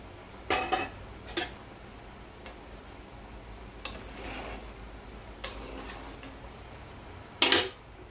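Fried katla fish pieces go into a boiling curry broth made without onion or garlic. A few sharp clatters and splashes ring out over a low, steady simmering hiss, with no talking.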